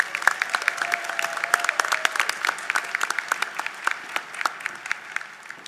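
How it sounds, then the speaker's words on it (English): Applause at a university commencement ceremony, a moderate crowd clapping with many distinct, sharp individual claps standing out over a softer background patter. "Give her a huge round of applause"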